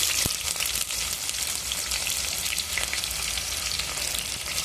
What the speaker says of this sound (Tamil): லைட்டாக பூண்டை போட்டு சும்மா போட்டு தெறிக்க விடும்